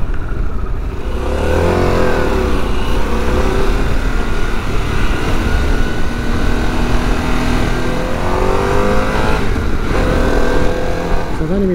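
A Harley-Davidson Pan America motorcycle rides on an open road, its engine droning steadily and loud throughout, with pitch rising and falling through gear changes and acceleration, accompanied by constant wind rush.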